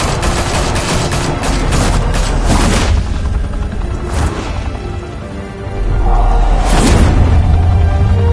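Video game gunfire from Batman: The Telltale Series, a loud sustained fusillade of rapid shots for about three seconds, then scattered booming impacts and a final heavy burst over a low rumble, with no speech.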